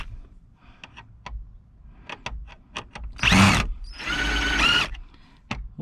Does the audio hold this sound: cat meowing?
no